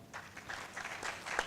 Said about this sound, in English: We can clap for her.